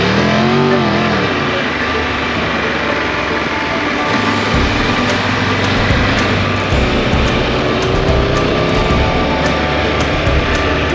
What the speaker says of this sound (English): Just listen to the sound of that engine.